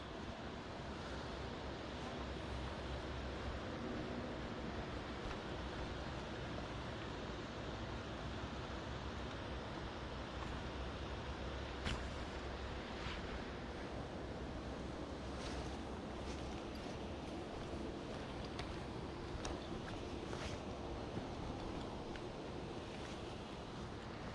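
Along the Palouse to Cascades State Park Trail, a waterfall gives off a constant soft rushing wash that sounds faint and distant, with a few light ticks and no voices.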